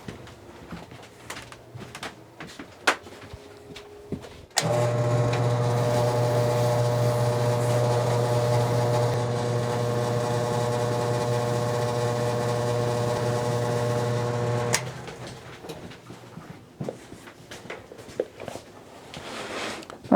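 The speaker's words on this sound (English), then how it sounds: "we're gonna hop over to our buffer, get those buffed up" A buffing machine runs for about ten seconds, spinning up suddenly and then dropping out abruptly, as boot soles are buffed during an Alden boot resole with Vibram. The steady motor whine is loud and near, with workshop clatter before and after.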